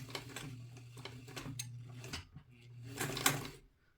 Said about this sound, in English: So I'll start by back stitching.